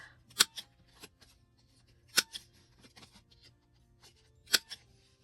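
Scissors snip through junk packaging paper in a few sharp, separate cuts, close and quiet with pauses between them and no voices.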